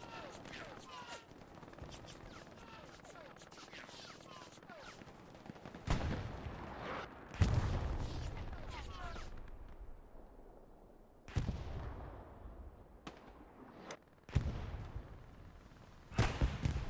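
Machine gun fire in the video game Hell Let Loose, with sustained rattling bursts and heavy booming blasts that come in uneven waves, loud at times and at times more distant, with a voice talking over the battle.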